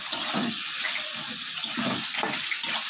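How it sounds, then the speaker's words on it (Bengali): Water poured into a pot of vegetable curry, a continuous splashing gush close by, steady throughout with no voices. "পরিমাণ মতো জল দিয়ে দিলাম"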